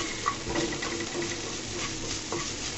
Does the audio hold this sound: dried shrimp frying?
yes